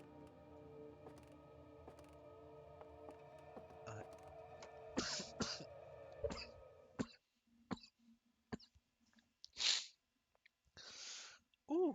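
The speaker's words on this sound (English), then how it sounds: "Having a small coughing fit." A person coughs in several sharp, ragged bursts, loud and close, while game sounds from Outer Wilds run in the background and a voice is heard briefly.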